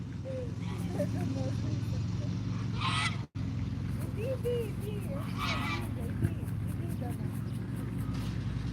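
Geese honking and cackling on an outdoor excursion in Dnipro, repeated loud nasal honks from several birds over a steady background hum, with people talking between the calls.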